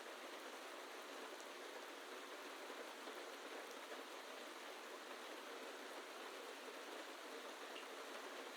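Heavy rain pours down in the video game Zenless Zone Zero in a dense, steady hiss that fills the whole scene, constant and unbroken with no other sounds.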